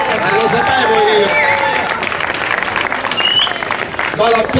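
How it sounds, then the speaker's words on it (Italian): A crowd claps and cheers at a slalom race award ceremony in Oppido Mamertina, with steady applause throughout, mixed with crowd noise and people talking nearby. "e qua forse scatta l'applauso"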